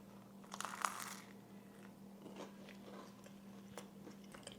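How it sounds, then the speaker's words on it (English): Crunchy bites into toast topped with red pepper jelly, a few crisp crackles near the mic against a steady low hum, with no talking. "let's go ahead and try this toast"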